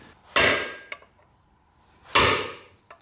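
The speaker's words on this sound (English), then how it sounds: "Probably need a heavy hammer for that." A heavy hammer strikes a 1930 Ford Model A transmission part twice, each blow a sharp, loud metallic clang with a brief ring and a small follow-up tap, spaced almost two seconds apart.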